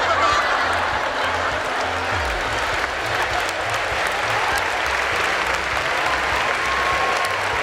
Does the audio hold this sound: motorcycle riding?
no